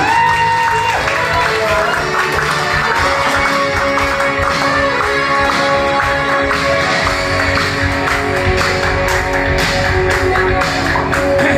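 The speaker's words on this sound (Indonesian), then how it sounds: "Beri aplaus buat Andi." Steady applause from a seminar audience at a Brilian Biz business training class as the speaker Andi is introduced, dense clapping with some cheering, holding loud and continuous throughout.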